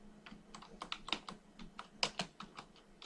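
Fingers tap briskly on a computer keyboard, a close, uneven run of light clicking keystrokes with no talking.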